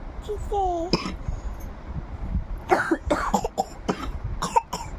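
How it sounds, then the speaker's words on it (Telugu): A child coughs several times in short bursts, with brief childish vocal sounds before and between the coughs, close to the listener. "నువ్వు దగ్గుతున్నావా?"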